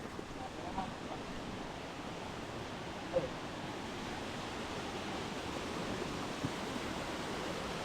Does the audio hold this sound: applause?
no